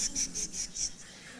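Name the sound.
person imitating the sound of a cicada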